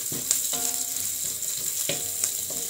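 Sliced shallots fry in oil in a pan with a steady, close sizzle throughout, punctuated by a few sharp clinks of a utensil stirring them.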